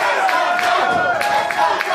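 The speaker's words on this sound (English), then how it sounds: "the crowd is cheering for him right now" A wrestling arena crowd at an NWA show cheers loudly and steadily, with rising shouts and clapping and a commentator's voice talking over the noise.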